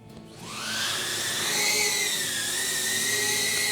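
An HGLRC Talon 4S FPV cinewhoop drone with 1303 motors spools up for takeoff in angle mode, its motors rising from a low hum into a loud, sustained high-pitched whine that wavers slightly in pitch as it lifts off nearby.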